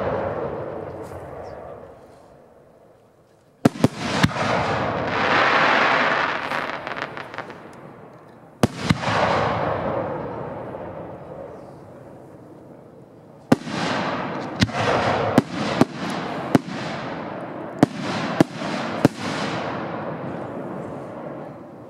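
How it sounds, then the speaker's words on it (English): Five-inch Young Feng aerial firework shells burst one after another in an outdoor pyrotechnics demo, loud booming reports each followed by long crackling, hissing decay, with several sharp closely spaced bangs in the final stretch. "Next up, we have some 5-inch Young Feng shells, if anybody's ever shot those before."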